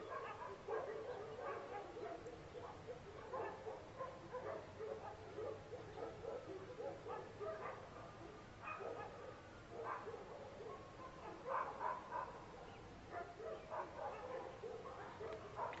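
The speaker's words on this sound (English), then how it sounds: "There's 20 dogs barking." A big pack of about twenty dogs barks and yelps continuously outdoors, overlapping woofs and yips piling up in an agitated, fairly distant chorus with no pauses.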